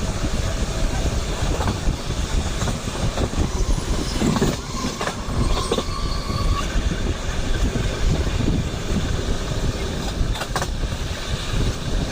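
Steady rumbling of a train rolling along the rails toward Hospete, with rhythmic wheel clatter and occasional faint squeals, loud and continuous throughout.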